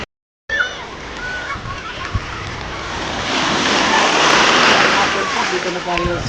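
Sea waves wash in at a beachfront resort, a broad rising surf rush that grows louder toward the end, with voices and bits of splashing mixed in.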